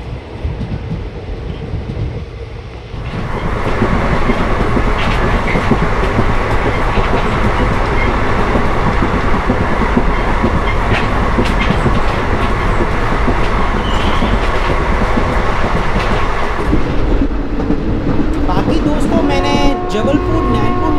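Passenger train running on the Jabalpur–Nainpur line in India, a loud continuous rumble of rolling wheels with clickety-clack over rail joints, heard from onboard and building after a quieter start, with a voice speaking over it.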